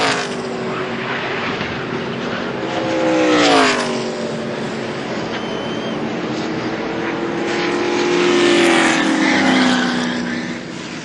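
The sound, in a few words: NASCAR race cars racing at over 200 mph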